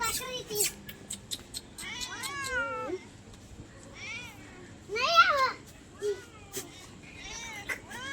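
A cat meows repeatedly nearby, drawn-out, wavering cries with short pauses between them, some louder and more insistent than others.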